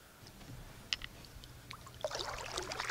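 Paddle strokes from a small boat on White Lake in northern Warren County: a few soft splashes and drips of water near the start, then a denser run of rippling water and dribbling sounds toward the end, all fairly quiet and with no talking.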